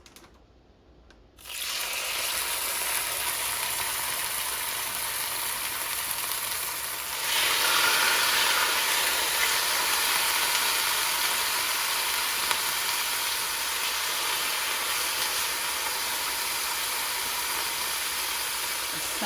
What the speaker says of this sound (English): So I'm gonna do a cast iron skillet, and we're gonna go ahead and cook these up.